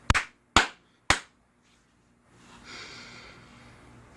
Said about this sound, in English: So we are going to clap 3 times.